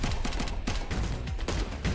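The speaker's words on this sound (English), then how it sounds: "Let's switch over to grenade to finish up the swarm." Continuous rapid gunfire and blasts in a video game while fighting off a swarm, a dense, loud barrage of sharp bursts with no pauses.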